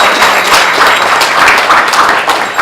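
Loud, close clapping from a conference audience in Kathmandu, with dense overlapping hand claps forming a continuous burst that stops abruptly at the end.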